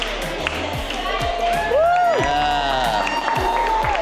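An excited crowd cheers and claps at a lively gathering, with whoops and shouts over a thumping music beat, fairly loud and close throughout.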